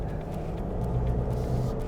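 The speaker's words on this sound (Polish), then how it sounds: "kiedy wciśniecie mocno pedał gazu, to usłyszycie ten klekot spod maski" Steady low diesel engine rumble with a faint rhythmic clatter from under the hood, heard from inside a moving 2025 Volkswagen Tayron.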